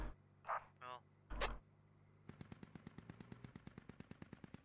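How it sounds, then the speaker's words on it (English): In the Squad Ops game, a DShK heavy machine gun fires a long rapid burst of sharp, evenly spaced shots, moderately distant, after brief radio-like voice chatter and crackle. "Dishka's firing on something."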